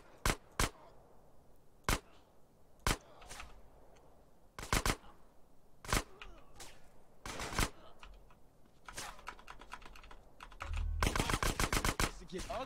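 Sharp, loud gunshots in the video game GTA San Andreas, including sniper fire, come as single cracks spaced irregularly and end in a rapid burst, with game noise between the shots.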